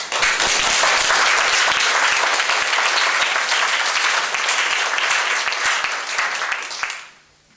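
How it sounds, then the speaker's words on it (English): Sustained, dense applause from the audience at an Eagle Scout Court of Honor, loud and even for about seven seconds before quickly tapering off to silence. "So, round of applause for him."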